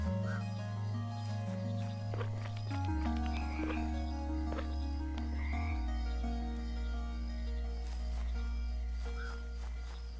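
Frogs croak during a relaxed gaming stream. Low, sustained calls shift pitch and overlap with a busy backdrop of tones, steady and moderately loud.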